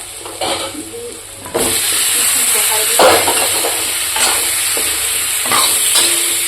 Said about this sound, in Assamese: সেইখিনি অকণমান লৰাই দিম এতিয়া